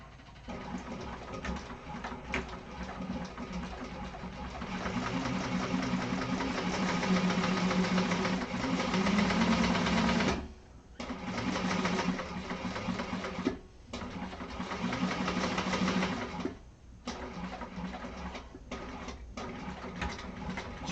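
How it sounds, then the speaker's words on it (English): A sewing machine stitches the exterior panels of a Snowdrop Satchel with a 1/4 inch seam allowance, a steady close whirring hum in several long runs broken by short pauses. "sew those with a 1/4 inch seam allowance"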